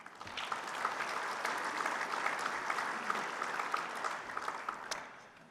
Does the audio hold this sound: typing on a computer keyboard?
no